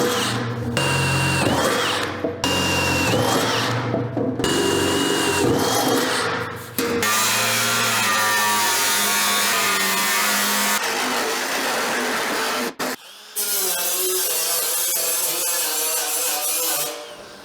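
Power cutting tool slicing through the steel floor of a 1954 Ford F100 cab for a transmission tunnel, a loud continuous whine that shifts pitch, with a couple of brief pauses.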